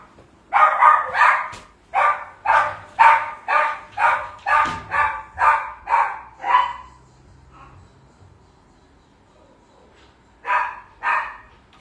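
A dog barks at the door as a groomer arrives to give it a haircut, a run of about a dozen loud, evenly spaced close barks, then a quiet pause and two more barks at the end.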